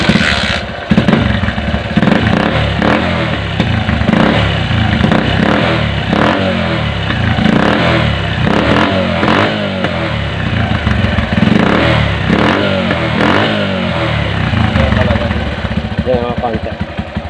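A Bajaj CT 100 motorcycle engine running after a carburetor repair, a loud close clattering putter with rhythmic pulses and occasional revs, with people talking over it.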